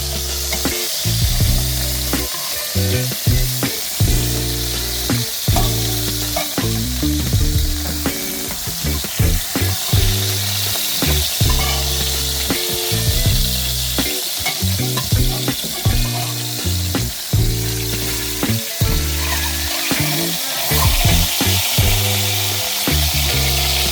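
Pork belly fries in a pan with a steady, loud sizzle that runs unbroken throughout, with a deep rhythmic pulse underneath and no talking.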